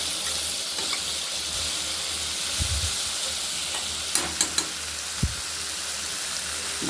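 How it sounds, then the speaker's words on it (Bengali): Pumpkin chunks fry in a pan tempered with mustard seeds, slit green chillies, salt and turmeric, giving a steady soft sizzle and hiss broken by a few sharp clinks of stirring. "সর্ষে ফোড়ন দিয়ে, কাঁচা লঙ্কা চিড়ে, নুন হলুদ দিয়ে এই যে কুমড়ো ভাজা হয়ে গেছে"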